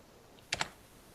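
Two quick keystrokes on a computer keyboard, entering a file name, sound close and crisp against a quiet room.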